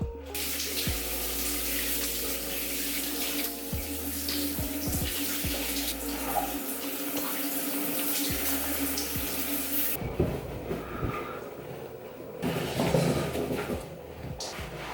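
Water runs steadily from a tap during a shower, a continuous close splashing flow that shifts and thins in the final seconds.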